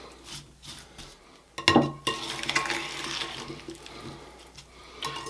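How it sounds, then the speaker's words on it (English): Strawberries and rhubarb tossed with sugars and cornstarch are stirred in a bowl, giving close, moist sloshing and scraping with intermittent clinks of utensil against the dish over several seconds. "we're going to mix this all together here"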